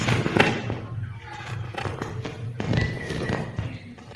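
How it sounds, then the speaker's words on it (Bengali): Enemy gunfire in a video game, with a few loud sharp shot bursts over a busy game soundscape, close and punchy. "এনিমি ফায়ার সাউন্ড হচ্ছে এখানে এনিমি ফায়ার সাউন্ড"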